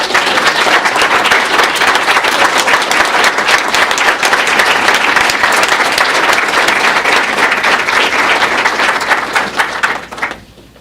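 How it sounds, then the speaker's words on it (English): Loud, rousing applause fills a school district board of education meeting room, steady and dense for about ten seconds before tapering off quickly at the end. "So they deserve a real rousing round of applause."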